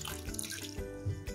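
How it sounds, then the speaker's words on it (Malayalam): Water poured from a vessel onto jaggery in a pan over a gas flame, a short close trickling splash with dripping, no talk. "അതിലേക്ക് കുറച്ച് വെള്ളം കൂടി നമ്മൾ ഒഴിച്ചു കൊടുക്കുന്നുണ്ട്."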